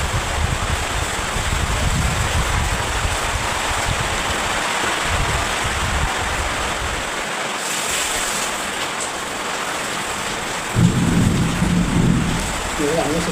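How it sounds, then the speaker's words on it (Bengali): Steady heavy rain pours down in a dense, unbroken hiss, with low rumbles of thunder rolling underneath and a deeper swell near the end. "বৃষ্টি হচ্ছে।"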